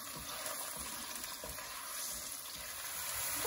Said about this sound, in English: Fry this for 2 to 4 minutes under high heat.